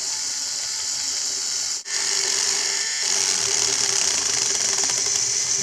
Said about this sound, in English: Grind them gears. That's faster.